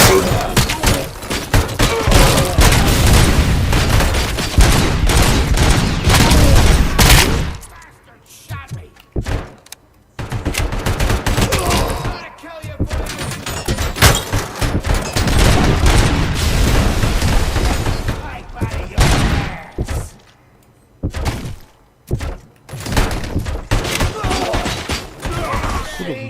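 Loud bursts of gunfire and heavy impacts from the Robocop: Rogue City video game, coming in dense volleys with brief lulls between them, while voices speak over the action.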